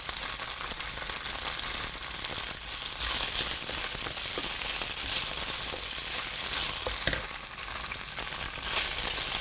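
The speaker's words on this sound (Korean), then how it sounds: "여기 남은 기름에 문어 익혀둔 것 아주 살짝 데워주시듯이만" Cooked octopus warms in leftover oil in a pan, a steady close sizzle and crackle of frying with occasional stirring clatter and no voices.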